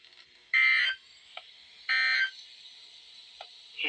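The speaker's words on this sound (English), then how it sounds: "The weekly test of the warning alarm system." Weekly test tone of a National Weather Service warning alarm system on a weather radio broadcast: two short, steady electronic alert bursts about a second and a half apart over a low hiss.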